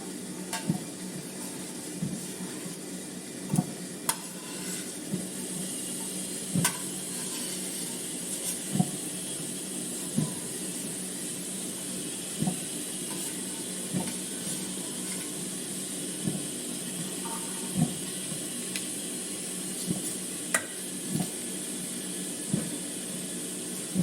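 Rice ada cooking in a hot pan while being stirred, giving a steady close sizzle with a hissing wash and regular soft scraping taps from the spoon, no voices.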